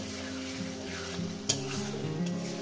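Masala for catla fish curry is sautéed and stirred in a pan, giving a low, steady sizzle with scraping strokes and one sharp utensil knock partway through.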